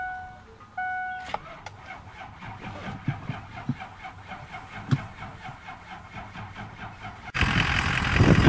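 A 2003 Ford F-250 with the 6.0L diesel cranks with a few chiming warning tones, then rough clattering turnover bursts, and finally catches into a loud, steady diesel roar near the end.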